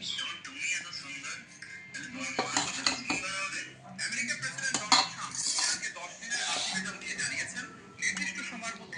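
Dishes and cutlery clatter and clink at close range as rice is served, with a steady run of scraping and knocking throughout, partly under a voice talking.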